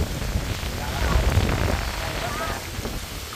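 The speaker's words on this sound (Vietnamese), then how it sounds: "Mưa quá rồi cô chú anh chị ơi." Heavy rain pours down near the Mỹ Lợi bridge, a dense, steady hiss and patter close by, with faint voices mixed into the downpour.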